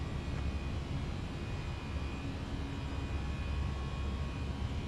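Air Canada airliner engines drone steadily through a climb, a loud continuous roar with a faint high whine on top, holding even for the whole stretch with no voices.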